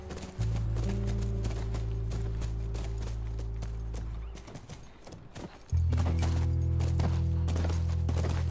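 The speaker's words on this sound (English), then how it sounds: "Look, by the ranch. That's our horse." Horse hooves clip-clopping in The Last of Us video game near a ranch, rhythmic hoofbeats over a loud droning tonal music bed that briefly drops out, then returns.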